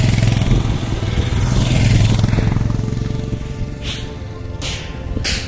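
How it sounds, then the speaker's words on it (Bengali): Motorcycle engines roar loudly past on the mountain road near Zojila Pass, then fade, leaving a lighter engine drone and a few sharp bursts near the end. "এরকম আমাদের অনেক বাইকার আসছে অনেকজন বাইকার"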